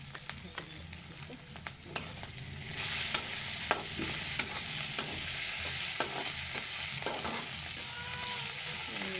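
Paneer masala frying in a pan as turmeric powder is added, with a continuous sizzle that grows louder partway through and frequent clicks and scrapes of a stirring spoon against the pan.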